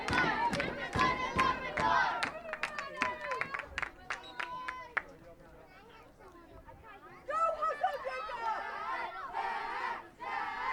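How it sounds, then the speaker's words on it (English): Fans cheer and shout at a U14 boys' Atlantic soccer match between Newfoundland and Nova Scotia, with loud crowd roars and scattered clapping that swell, dip, then surge again. "he gets a cheer from the fans"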